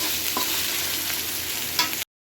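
Mixed winter vegetables fry in a pan while being stirred, a loud steady sizzle with occasional scrapes of the spatula, ending abruptly.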